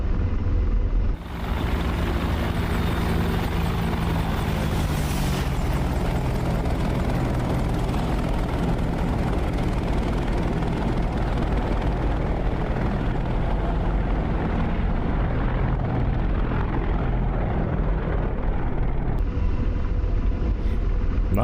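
An AH-64 Apache attack helicopter flies past in the DCS flight simulator, its loud, continuous rotor thump and turbine roar filling the whole stretch at steady strength.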